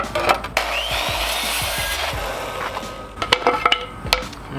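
Hand sawing through a wooden stick to cut two-foot leg sections for a laptop stand, rasping back-and-forth strokes close up, followed by scattered knocks and handling clatter.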